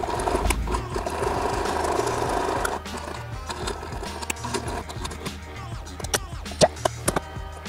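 A sewing machine stitches the bottom of a Batman cosplay utility belt with a steady mechanical whir that breaks into shorter bursts and a few sharp clicks, close and fairly loud.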